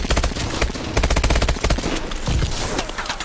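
Rapid, sustained turret machine-gun fire in the Call of Duty video game, loud and close, with dense bursts of shots rattling almost continuously throughout.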